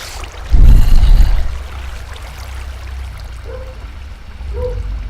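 Water splashing while swimming in a Minecraft GregTech modpack: one short, loud splash burst near the start, then a soft, steady watery wash with faint bubbling toward the end.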